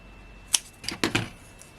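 Scissors picked up and handled at a cardmaking desk, a few sharp, faint metallic clicks and taps close by in an otherwise quiet room.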